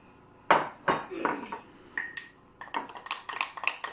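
A utensil scrapes and clinks against a bowl in uneven bursts as sourdough starter is mixed with flour and water, the sound close and fairly quiet.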